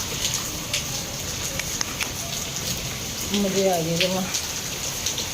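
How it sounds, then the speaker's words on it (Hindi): Very heavy rain pours steadily as a dense wash of hiss and patter, with someone speaking over it. "देखो कितनी तेज़ बारिश है।"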